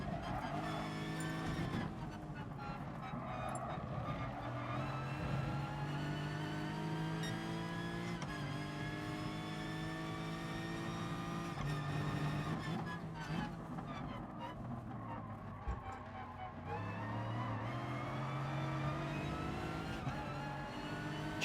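Racing engines of a BMW and a Lexus in GT Sport, FIA practice, droning steadily with rising and falling pitch through gear changes, with tire squeal at moments and faint talk underneath.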